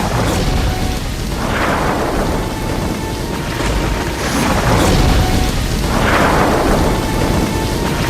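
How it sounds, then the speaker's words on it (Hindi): A rain and thunder effect plays in a stage performance of the Govardhan Leela: a steady, loud rain wash broken by two deep rolling thunder swells that rise and fade. "सात दिनों तक लगातार मूसलाधार बारिश हुई।"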